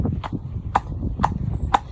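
A horse's hooves clip-clop steadily on a road while out hacking near traffic, with sharp, evenly spaced strikes at close range over a low rumbling background.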